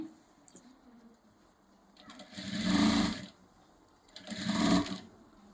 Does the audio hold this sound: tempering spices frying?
no